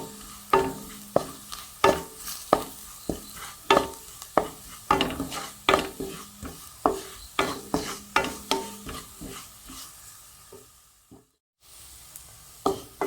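Chili and turmeric powder sautéing in oil for a Kerala-style beef liver roast, with a steady run of rhythmic spatula strokes scraping the pan over a soft sizzle, briefly stopping near the end before one more stroke.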